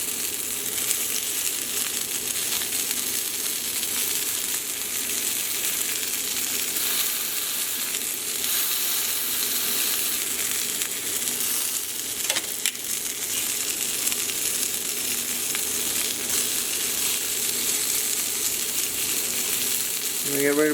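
Chicken sizzles steadily in a hot pan partway through cooking for a French onion chicken dish, a dense continuous frying hiss that holds level throughout with no speech over it.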